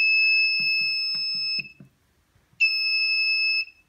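A museum security system's alarm buzzer sounds a loud, steady high-pitched electronic tone, cuts out for about a second, then resumes just as loud and continuous.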